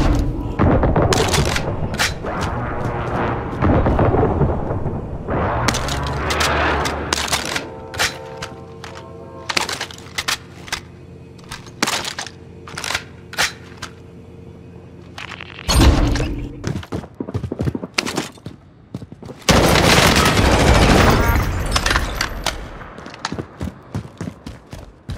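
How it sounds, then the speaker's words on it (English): Airstrike explosions from the video game Call of Duty: Warzone, a run of loud booming blasts and gunfire-like bursts that come in irregular clusters, with heavy low rumble between impacts and no talk. "Friendly precision airstrike inbound."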